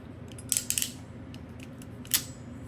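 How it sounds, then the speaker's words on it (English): Scissors lightly scoring the outer jacket of an Ethernet cable about an inch or two from the end, giving a few quick faint snips and scrapes close by, then one more a moment later, over quiet room hiss. "I'll take my scissors, I go about an inch or two, and I just kind of lightly score it"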